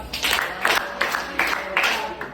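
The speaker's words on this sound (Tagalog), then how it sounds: "Tagayin si Ate Arsenal, o 5 ka palakpak" An audience in a classroom session gives a rhythmic set of about five unison group claps, evenly spaced and fairly close, with a faint voice underneath.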